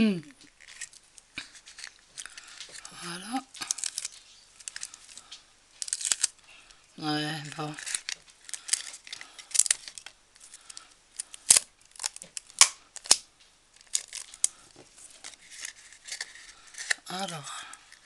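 Scissors snip through tape and paper in quick, crisp cuts and rustles, close to the microphone, with a voice speaking now and then over the handling noise.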